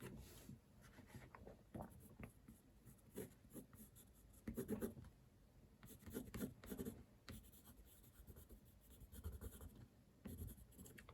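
A drawing implement scratches across paper in loose, quick, repeated strokes, a soft close rasping that keeps going over the same area in irregular bursts.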